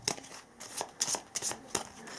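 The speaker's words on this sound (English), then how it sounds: "so I shuffle my discards again to make a new draw deck." Discard cards from the board game Wipers Salient being shuffled by hand into a new draw deck, a close series of quick papery riffles and taps in brisk bursts, quiet and with no talking.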